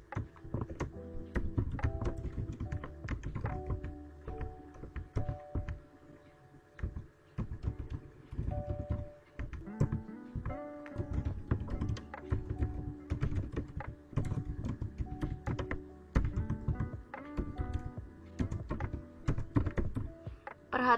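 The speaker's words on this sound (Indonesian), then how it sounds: "Setelah ini, ketikkan kode programnya." Program code being typed on a computer keyboard, rapid irregular key taps with short pauses between bursts, close and clear with no talking.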